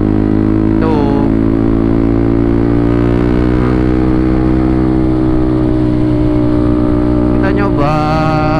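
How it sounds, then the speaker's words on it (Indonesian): A motorcycle engine runs loud and close on a Sunday-morning ride, held at a steady low throttle with a couple of brief gentle rises in pitch near the start and end. "Kita nyoba gas tipis-tipis."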